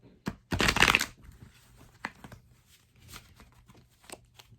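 Mythic Tarot cards being shuffled up close, a dense riffling burst followed by a few lighter shuffling taps and rustles, with no talking.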